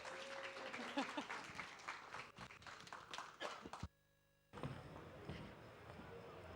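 Welcoming applause from a games festival audience for a presenter, dense clapping that breaks off abruptly into a moment of near silence before a noisier room returns with movement and chatter.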